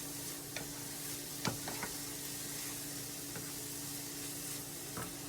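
Vegetables cook in a pan with a soft, steady sizzle, broken now and then by a few faint clicks and taps of a utensil, quiet and close with no talking.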